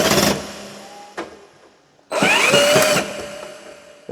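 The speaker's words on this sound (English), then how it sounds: "The issue with these magnetic drill bits is that it makes the screw want to" A power drill with a magnetic bit drives a screw during a door repair, with two loud close bursts of whirring separated by a short gap and a brief click between them.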